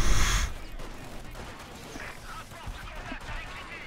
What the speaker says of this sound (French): On tire en bas!